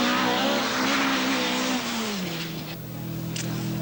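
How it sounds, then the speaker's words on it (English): An Audi Quattro rally car races at the 1982 Circuit of Ireland with a broken drive shaft, its engine note loud and close, holding a high pitch before dropping lower as the car passes and pulls away. "The Quattro is slowed by a broken drive shaft, but Cabey is piling on the pressure in sensational style"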